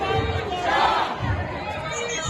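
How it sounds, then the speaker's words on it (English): A large crowd of Iranian demonstrators chants in unison, a loud, dense roar of massed voices rising and falling with a rhythmic swell, close and continuous throughout. "they're also chanting, this is the final battle, Pahlavi will return"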